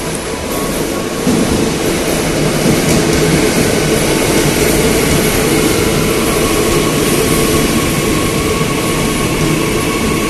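An airport rail link train at BNI City station rumbles loudly and continuously nearby, a heavy mechanical drone with a faint high whine running through it and no talking.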